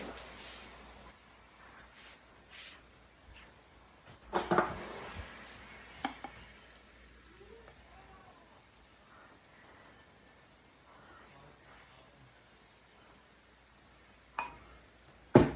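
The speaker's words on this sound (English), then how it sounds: "we're just gonna top these all off and put some lids on them" Lids going onto glass jars of homemade sauerkraut, with scattered clinks, clatters and scrapes of metal and glass at irregular intervals over a faint room hiss, a few sharper knocks standing out.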